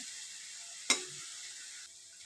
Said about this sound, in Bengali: তো এভাবে নাড়াচাড়া করে মুচমুচে করে ভেজে নিতে হবে